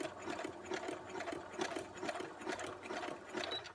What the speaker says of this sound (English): I'm going to change my stitch, and I'm going to go to a zigzag stitch for a little while